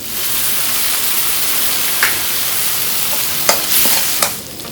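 Spicy field rat meat sizzles loudly in a hot wok, a constant hiss of stir-frying broken by a few sharp scrapes and clacks of the spatula, with no one talking.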